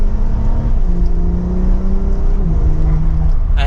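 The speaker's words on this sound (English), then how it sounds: "Doesn't seem all that loud in a mild acceleration there" Porsche 911 Targa 4S engine in Sport Plus mode under mild acceleration, a steady close hum whose pitch climbs, then drops at each upshift, with no talk over it.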